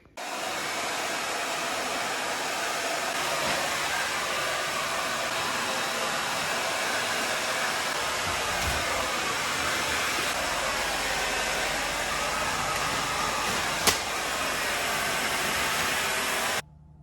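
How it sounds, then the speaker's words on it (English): A hair dryer blows steadily and loudly for the whole stretch, a constant rushing hiss with one brief click near the end before it cuts off. "I might have to go and get my hairdryer and get this off."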